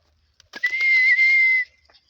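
Pet birds give one sustained, high, whistle-like call lasting about a second, bright and close, with a few short chirps just before and after in an otherwise quiet room.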